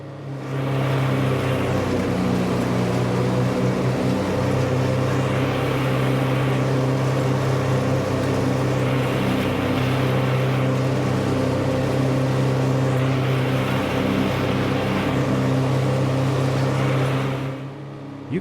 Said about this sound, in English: You could hear it taxing the tractor there a little bit, but Johnny just kept on pulling